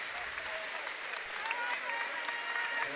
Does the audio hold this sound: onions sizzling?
no